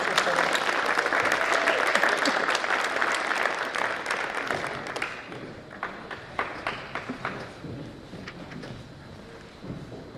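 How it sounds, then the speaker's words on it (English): Applause from the audience at a school academic awards ceremony begins as loud, dense clapping and then thins to scattered individual claps, with a few voices heard underneath. "let's give him a big round of applause"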